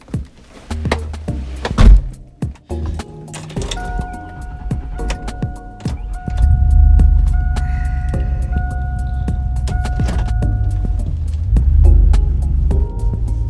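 A car engine starts and settles into a steady low idle hum and throb from inside the cabin, following door and key clunks, with a faint chime tone sounding for several seconds.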